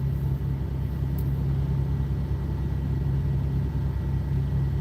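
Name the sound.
semi-truck diesel engine running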